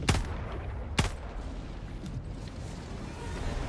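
Two sharp gunshots fired at an enemy in Helldivers 2, one at the start and a second about a second later, each a loud crack over a steady rumbling game background.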